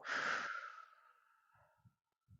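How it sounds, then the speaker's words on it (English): One long, deep breath rushing out, breathy and close, fading over about a second, then a couple of soft short inhales and nasal breaths during a slow mobility exercise, with no talking. "really feel that breath filling up your lungs. And out."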